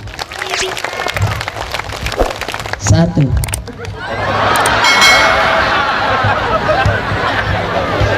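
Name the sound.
audience applause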